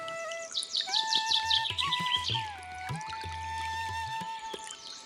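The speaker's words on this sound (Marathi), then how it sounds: "पक्ष्यांचा गोड आवाज मनाला एकदम शांत करतो." Birds singing in green surroundings near a peaceful hillside temple in Ratnagiri, with bright chirps, trills and a few sustained whistled notes, clear and moderately close over quiet background.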